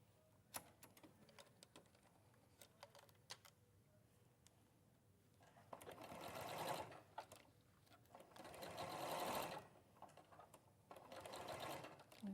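A sewing machine stitches a narrow 1/8 inch seam in short bursts of whirring, with scattered clicks and handling noises between runs, fairly quiet and close.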